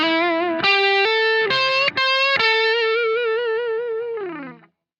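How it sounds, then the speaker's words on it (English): Distorted electric guitar lick with slides, hammer-ons, a quarter-tone bend and vibrato: a few bright sustained notes that step and glide in pitch, then end in a wavering held note that slides down and fades. "This is what the lick and technique sound like when combined."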